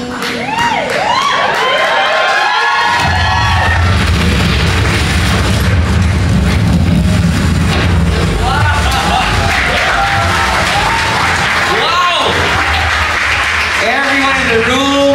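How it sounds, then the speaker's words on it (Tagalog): An audience in a room gives a standing ovation for a teaser trailer, sustained loud applause and cheering filling the space after a brief burst of trailer audio, with voices mixed into the crowd noise throughout. "standing ovation from the table right there, pumapalakpak para sa trailer na yun, sa teaser na yun"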